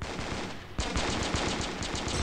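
Rapid machine-gun fire from the mobile first-person shooter Danger Close, a short pause then a loud, tight run of repeated shots in quick rhythm, up close.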